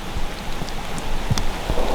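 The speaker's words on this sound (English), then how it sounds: "And the rain and hail." Heavy rain and hail pelting down during a lightning storm in the Wyoming backcountry on an elk hunt, a steady loud hiss of downpour with a few sharper impacts and no voices.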